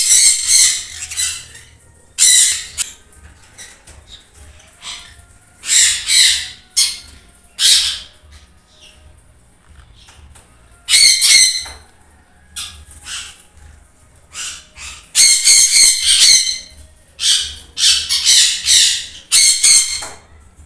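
Several pineapple conures, yellow-sided parrots kept on a breeding farm, give loud, harsh squawks in repeated bursts of calls with short quiet gaps between them, close by and with no talk.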